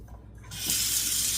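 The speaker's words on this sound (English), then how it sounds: "I'm just going to put some water in here" Tap water gushing into a hummingbird feeder, starting faint and swelling to a steady, close hiss of running water after half a second.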